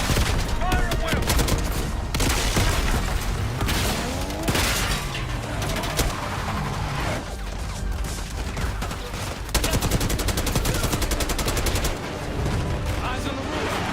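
Dense, loud gunfire from a Black Ops 6 campaign mission, with sustained automatic bursts and booming shots filling the whole stretch without pause.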